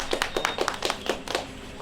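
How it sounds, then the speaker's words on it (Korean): A group of children clapping together on arrival at a zipline site during an outdoor camp, roughly a dozen quick, light claps in an uneven rhythm, brief and fairly soft. "일단 다 같이 박수!"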